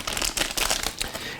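A plastic bag being opened to unwrap a battery for a digital otoscope crinkles in quick, dense bursts across the whole moment, close and fairly loud, with no voice.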